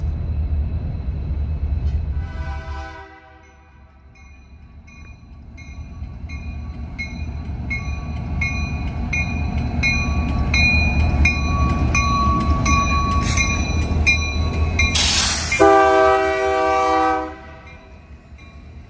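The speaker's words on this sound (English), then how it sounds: "Currently passing the Amtrak depot, this train left Klamath Falls at 2 a.m." Union Pacific freight train passing the Amtrak depot in downtown Eugene, its rumble building under repeated long horn blasts that grow louder, ending in a very loud close blast before fading to rolling wheel noise.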